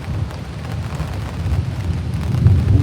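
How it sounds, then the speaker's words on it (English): Distant thunder rolls as a low, steady rumble at a lakeside fishing spot, swelling slightly toward the end with no talk over it. "Thunder."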